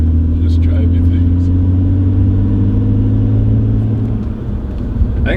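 A salvaged BMW 335d driving along the road at the speed limit, a steady, loud, low engine and road drone heard from inside the car, easing slightly near the end.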